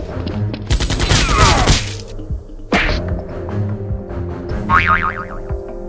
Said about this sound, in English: hears the gunshots